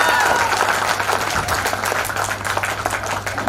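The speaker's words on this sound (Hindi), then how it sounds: "बजाओ ताली।" Audience clapping at a corporate LDP program speech in a hall, steady and fairly loud applause running the whole time with a low hum beneath it.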